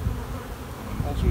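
Honey bees buzzing in a hive box full of frames of honey and pollen, a dense close swarm hum, loud and continuous over a brief moment.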